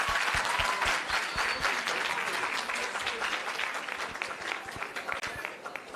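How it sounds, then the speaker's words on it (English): At a learner-leadership summit, a hall audience breaks into loud, dense clapping for the Northern Cape delegation, strong at first and gradually thinning over several seconds. "Let's give Northern Cape a round of applause."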